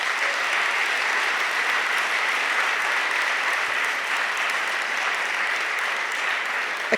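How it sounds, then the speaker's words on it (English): Sustained applause from a large campus audience at a talk, dense and steady for the full seven seconds with no break in the clapping. "I think you deserve to give yourselves a round of applause"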